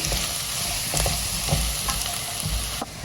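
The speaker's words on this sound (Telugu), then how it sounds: "ఒక త్రీ మినిట్స్ ఉడికించేసుకుందాం ఎస్ ఓహో క్రిస్పీగా దొండకాయలు వేగిపోయాయి" Ivy gourd (dondakaya) pieces sizzle and crackle in a hot pan, a dense, steady frying hiss close at hand with occasional stirring scrapes and pops.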